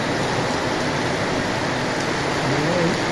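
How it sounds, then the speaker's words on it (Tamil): Rain falls steadily at a temple in Thiruvur during a cleaning work day, a dense even hiss of drops throughout with no voices. "மழை வந்துருச்சா"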